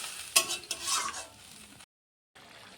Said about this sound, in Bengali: কষানো হয়ে গেছে, জল দিয়ে দিচ্ছি।